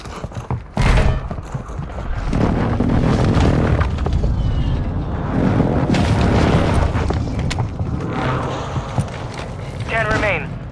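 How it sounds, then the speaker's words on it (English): Precision airstrike explosions in Warzone 2 land as a sharp boom followed by heavy rolling rumble and scattered blasts, with a voice speaking over the din. "Hostile precision airstrike."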